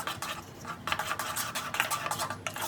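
Rava batter being mixed in a bowl right after Eno is added, a quick rhythmic scraping and stirring with a spoon against the bowl, steady and close throughout with no talking.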